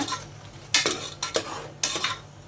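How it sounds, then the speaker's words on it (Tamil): A spoon stirring masala water with chilli powder, coriander powder and garam masala in a pot for pani puri, giving a few quick scraping and clinking strokes in bursts, close and clear with no talk. "மிளகாத்தூள், மல்லித்தூள், கொஞ்சோண்டு கரம் மசாலா போட்டு நல்லா இதை இப்போது கிளறி விட்டுப்போம்."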